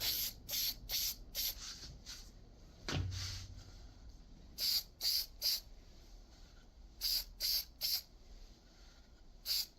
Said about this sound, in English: I'll spray this one, and we are finished.